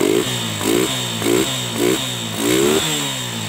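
A Honda Megapro motorcycle engine with a carburettor fault idles and is blipped several times, each quick rev rising and falling in a steady rhythm, close and loud.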